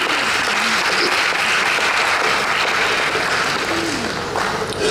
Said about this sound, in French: que je demande également d'applaudir